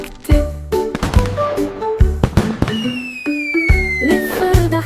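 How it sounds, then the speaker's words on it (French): Fireworks bursting in a cartoon-style sound effect: a rapid series of loud sharp bangs and crackles with whistling rockets gliding downward in pitch, dense and energetic throughout. "Les feux d'artifice de Jack ont illuminé la voie lactée."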